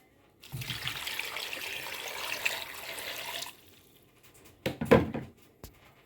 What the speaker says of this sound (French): Je rajoute par contre 1 litre d'eau maintenant.